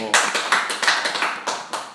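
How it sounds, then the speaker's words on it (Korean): One person clapping hands during a church sermon, roughly nine quick, sharp claps in an uneven rhythm, close and fairly loud. "오, 야, 은진이가 박수를"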